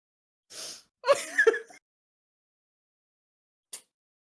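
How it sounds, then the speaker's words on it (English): A small cat sneeze bursts out, followed by a quick second snort, then quiet and one faint brief puff near the end. "That was my cat sneezing."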